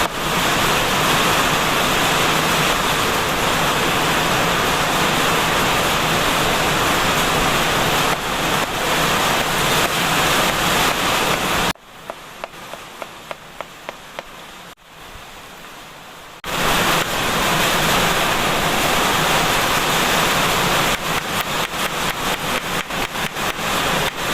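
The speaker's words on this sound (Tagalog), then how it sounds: "Binabagyo na tayo." Strong wind and heavy rain of a storm roar as a dense, steady broadband wash, briefly dropping to a quieter patch with faint ticking before the full loud downpour returns.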